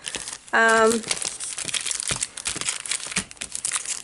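Paper crinkling as it is unwrapped, crisp close rustles and crackles through most of the clip, with a short bright tone near the start and a voice speaking over it.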